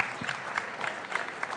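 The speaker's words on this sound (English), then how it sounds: "A big round of applause to all of you." An awards ceremony audience at a paint company design event applauds, heard as a short, moderately quiet wash of many hands clapping at an even level throughout.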